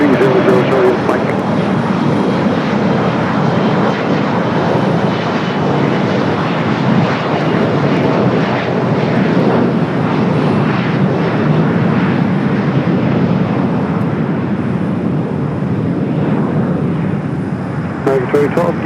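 An airliner taxiing at LAX airport gives off a loud, sustained jet rumble and roar that holds steady throughout, with faint voices beneath it.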